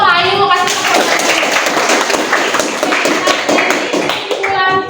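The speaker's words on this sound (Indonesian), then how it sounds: "Jadi kasih tepuk tangan dulu tuh Ayu, kasih tepuk tangan." Schoolchildren in a computer class clap together for a classmate, a brisk burst of hand claps under a teacher's voice that continues over it, with speech at both ends.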